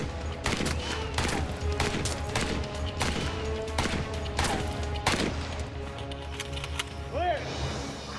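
Rifle firing intermediate cartridges at targets during a range test, a rapid string of sharp, loud shots echoing close by, then a brief pause and a few more reports.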